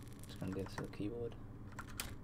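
A computer keyboard clicks in short, light bursts of typing while someone speaks over it, the keystrokes faint and close.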